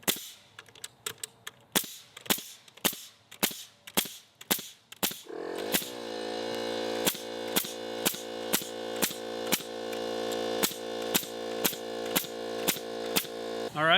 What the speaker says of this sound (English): I'd go ahead and fire off a bunch of nails into a side end grain just to see what happens